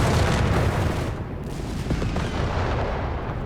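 Anti-tank gunfire striking a Tiger tank in the Company of Heroes 3 war game, a dense roar of booming shots and battle noise sustained at high level throughout.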